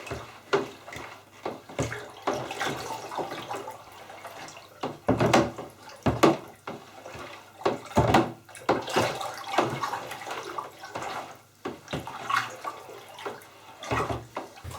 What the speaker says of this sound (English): just keep stirring and keep stirring to make sure all the yeast, the sugar, the carbon, all that's mixed up